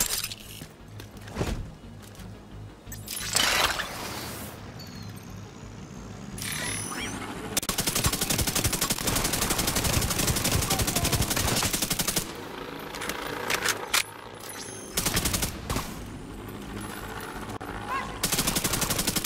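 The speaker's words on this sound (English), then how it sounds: "I like the explosion effects on this game." Gunfire and explosions from The Division 2 video game come in bursts: a few sharp single shots and blasts, then long rattling stretches of rapid automatic fire, loud and dense, with brief pauses between volleys.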